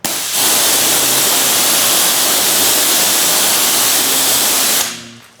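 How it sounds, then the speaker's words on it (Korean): A high-pressure water jet sprays onto a car's glass in one loud, steady hiss lasting about five seconds, then cuts off abruptly. "자, 한번 고압수를 뿌려 보겠습니다."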